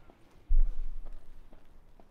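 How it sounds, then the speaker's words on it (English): Horse hoofbeats approach in the fantasy video game Thronebreaker: a galloping horse heard as a soft, low rumbling patter that swells suddenly and keeps going, fairly quiet and a little distant. "The sound of approaching hoofbeats made Meave turn to see Reynard spurring on his panting horse, galloping at a breakneck speed towards her."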